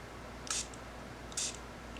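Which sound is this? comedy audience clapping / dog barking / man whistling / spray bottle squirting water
spray bottle squirting water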